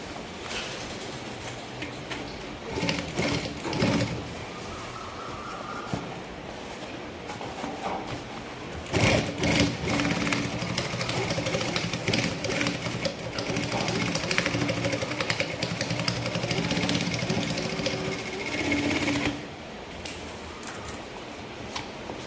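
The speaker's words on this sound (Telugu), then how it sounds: "పైనుంచి కూడా ఒక స్టిచ్ లాగటం అనేది జరుగుతుందండి దీనికి" A sewing machine double-stitching the handle of a jute bag, a steady rattling mechanical run that stops and restarts in long bursts, close up with no talk.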